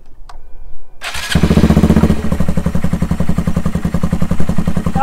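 A small dirt bike engine cranks and catches with a loud burst, then settles into a fast, choppy, steady idle close by, with no speech.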